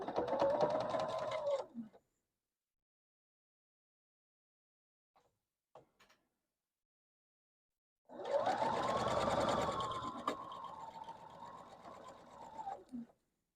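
Quilt pieces being sewn together on a sewing machine: two fast, humming stitching runs, a short one at the start and a longer one later, separated by near silence with a few faint clicks.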